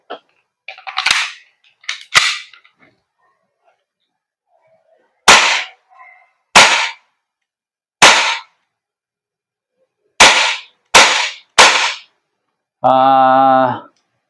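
A WE M1911 MEU airsoft gas blowback pistol fires about nine sharp, loud cracks at irregular intervals, some in quick pairs, each followed by the snap of the slide, with a short buzzing tone at the end.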